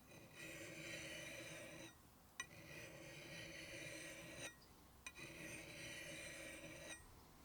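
A metal file rasps along an axe edge in three long, steady strokes, each a harsh grinding scrape with short clicks between them, close and fairly quiet.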